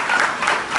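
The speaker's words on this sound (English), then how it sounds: "please stand and be recognized so we can give you a round of applause" A live event audience gives a round of applause to recognize standing attendees, a short stretch of dense, continuous clapping from a crowd at moderate volume.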